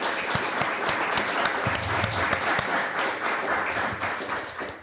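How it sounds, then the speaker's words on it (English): A conference audience applauds panelists after a session on VFX education, sustained dense clapping from many hands filling the room evenly for the whole stretch, with no voices on top. "If you would like to give a round of applause to our panelists."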